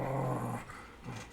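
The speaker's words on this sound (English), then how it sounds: "And you hear growling." A dog-like creature growls low and sustained behind a door, a close rumbling snarl that fades and then returns briefly, heard alone as a sound effect.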